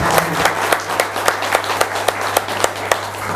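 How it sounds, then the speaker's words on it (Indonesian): Crowd applause at a large labour rally against a job-creation law: steady, rhythmic clapping with regular beats over a dense wash of hands and crowd noise, fairly close and loud, with no talk. "mari kita beri aplaus, tepuk tangan untuk perjuangan teman-teman"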